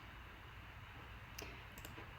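Two soft, quick mouse clicks, close together, hit the Zoom mute button over a quiet background hum.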